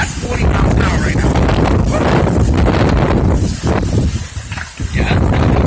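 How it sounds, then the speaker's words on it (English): A roaring wind gust near 40 mph rushes through the narrow gap between two buildings, hissing and buffeting the microphone in loud sustained surges that dip briefly near the end, with someone speaking over it. "that's 40 miles an hour gust going through here"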